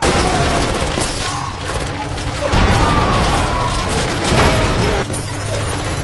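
Action-film battle sounds with a grenade blast and gunfire: rumbling booms and crackling shots layered over a dense, steady din, with a narrator's voice running over it.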